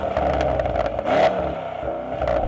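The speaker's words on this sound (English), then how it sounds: "Good old Zane's fitted an exhaust." Mercedes-AMG E63 S fitted with an aftermarket exhaust, a loud, close, steady engine drone with a brief rise in the middle, heard on its own without talk.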